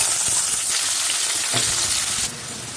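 Onions and slit green chillies fry in oil in a pan on a low flame with a loud, dense, continuous sizzle that dips slightly near the end.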